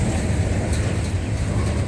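A long CSX auto rack freight train rolls past in LaGrange, Georgia, a loud, continuous low rumble of heavy cars heard close by without a break.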